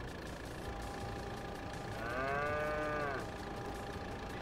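Several cows moo in overlapping, drawn-out calls from a Farming Simulator 22 herd, rising clearly above a steady background hum midway through and fading after about a second.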